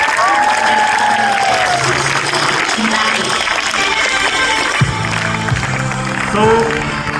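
An audience at a girls' high school Women's Day event applauds steadily for a student's mother, sustained clapping throughout with a voice speaking over it.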